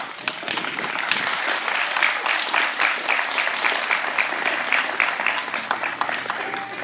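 An audience gives sustained, steady applause for Kalisha, a dense wash of many hands clapping at full volume without a break for nearly seven seconds.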